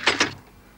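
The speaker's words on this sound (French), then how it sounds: "on met la casserole sur le gaz et on allume le gaz" A gas stove burner being lit: two quick sharp clicks of the igniter close together, followed by a soft fading whoosh of gas catching, short and near.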